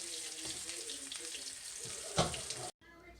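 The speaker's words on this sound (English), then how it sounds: "they've been cooking in the sauce for an hour, and they're done" Turkey and chicken meatballs simmer in sauce with a steady, close, bubbling sizzle and hiss that runs throughout, punctuated by one louder spattering burst near the end before the sound abruptly cuts out.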